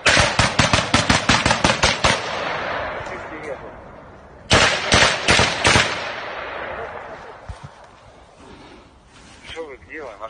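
Automatic gunfire from Ukrainian soldiers attacking Russian positions outside Kyiv: a rapid burst of loud, close shots, a lull, then a second burst, with scattered distant shots and a shouting voice.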